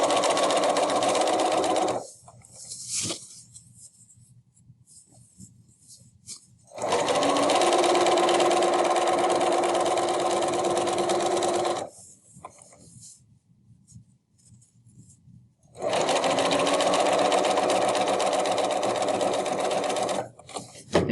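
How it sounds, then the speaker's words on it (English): Sewing machine stitching a strap onto a tote bag, three long steady runs of fast whirring and clatter separated by quiet pauses with faint handling noises, close and clear. "sew it on 3/8 all the way down."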